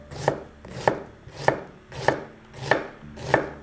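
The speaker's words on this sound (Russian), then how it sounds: "Теперь нарезаем мелко одну луковицу или половинку большой луковицы." A knife finely chops an onion on a cutting board, six evenly spaced crisp thuds about half a second apart, close and clear with no talking.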